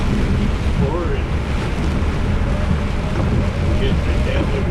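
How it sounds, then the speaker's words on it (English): Heavy rain pours down in a thunderstorm near Bahia Honda State Park and Sunshine Key, a loud unbroken roar with gusty wind buffeting the microphone. "It's pouring."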